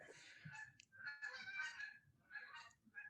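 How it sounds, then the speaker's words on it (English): A flock of about eight geese flies over a tiny home, giving several faint, distant honks in irregular bursts against a quiet outdoor background, with no talking. "Who's got geese?"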